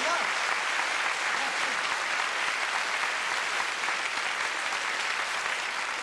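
A theatre audience claps for a performer at a festive evening show, a dense, even wash of applause that holds steady and loud from start to finish.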